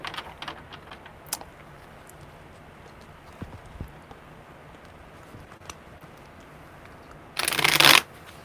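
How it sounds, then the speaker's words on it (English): Tarot cards being shuffled, a faint soft rustle through most of the stretch before a loud, dense riffling burst near the end. "Of course, it has to be a really weird shuffle."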